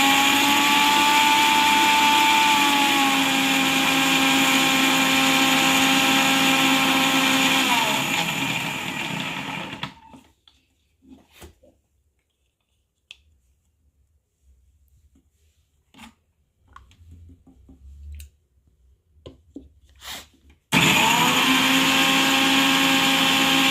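A mixer grinder purees beetroot into a fine paste, a loud, steady motor whine running for about ten seconds, then falling quiet with faint clinks before roaring back on for a final burst.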